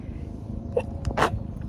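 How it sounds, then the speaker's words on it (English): A single short sneeze bursts out once, close by, against quiet background noise. "I'm gonna sneeze."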